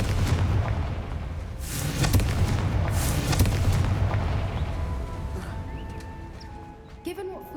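Confringo blasting spell explosions in the video game Hogwarts Legacy: two heavy booming bursts ring out over a dense rumbling game soundscape, then fade into quieter ambience with a faint voice-like tone underneath.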